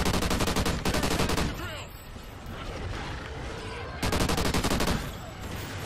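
Rapid automatic gunfire in Call of Duty Ghosts Extinction, two long sustained bursts of fast regular shots separated by a quieter stretch of combat noise, loud and close, with a voice talking in the gap.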